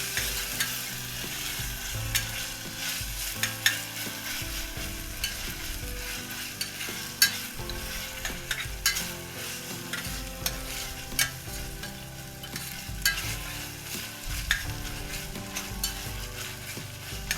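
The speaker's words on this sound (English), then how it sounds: "the time to add the ginger garlic paste. So fry it till the raw smell goes off." Ginger garlic paste frying in a pan makes a continuous close sizzle, broken by frequent rhythmic stirring scrapes and knocks of a spoon, with no one talking.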